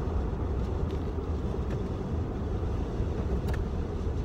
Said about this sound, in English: there's like a garbage truck in front of me, and literally garbage falling out